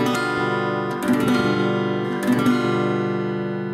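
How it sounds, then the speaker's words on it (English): G dominant 7 chord strummed on an acoustic guitar, a full ringing chord with two brief restrums, sustained and close, no talking. "Now we're going to learn G dominant 7, which sounds like this."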